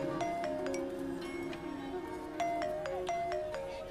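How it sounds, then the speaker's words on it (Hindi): A phone's electronic ringtone plays a repeating chime melody over faint background noise. "सोनल का फोन आ रहा है"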